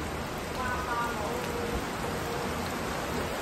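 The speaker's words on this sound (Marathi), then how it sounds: "चला तो काय पाऊस आलेला" Steady rain falls as a dense, even hiss of drops on surfaces, close and continuous throughout, with faint voices beneath it.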